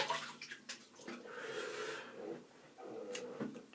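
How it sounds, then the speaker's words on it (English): Water splashes and rubs against a face at a bathroom sink before a shave with a Merkur 34C HD razor, soft wet scrubbing and dripping in close irregular bursts, with no talking. "put a little water on my face"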